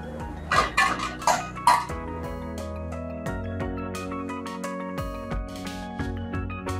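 A spoon clanks against a metal pot several times while vegetarian Kashmiri pulao with chopped cherries is stirred, followed by steady music with no further clatter.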